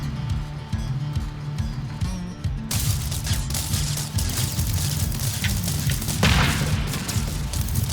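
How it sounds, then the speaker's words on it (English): Monster mortar firing in the video game TerraTech: a sudden heavy burst of dense booming and crackling noise cuts in partway through and keeps rumbling, with another thump later, over a rhythmic in-game musical loop. "that sounded like the monster mortar having its way"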